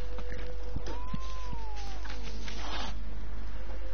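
A cat meows once in a drawn-out, rising and falling call over steady background noise in the video game The Witcher 3, with occasional soft clopping.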